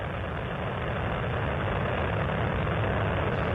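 Space Shuttle Columbia's three liquid-fuel main engines during launch, throttling back in steps toward 72% of rated performance, give a dense, continuous, loud roar with steady low rumble and no pauses.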